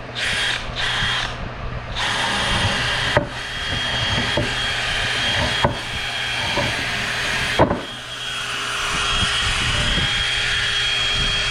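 A power drill boring a shallow quarter-inch pilot hole into wood for a mini mating nuc hive, a loud steady whir in several bursts broken by short stops and clicks, close and with no talking.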